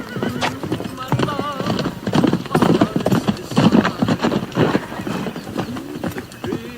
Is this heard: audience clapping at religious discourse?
no